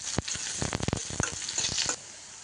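Chopped onions frying in oil as they are stirred, a dense hissing sizzle broken by a quick series of sharp scraping strokes of a utensil against the pan, then a quieter tail once the stirring stops.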